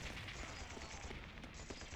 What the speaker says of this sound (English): You get a bunch of gunfire instead.